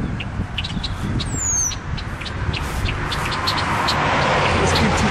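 A bird calls near its nest while dive-bombing a person outdoors: scattered short sharp chirps and one swooping high call over loud wind-like rumble and steady background noise.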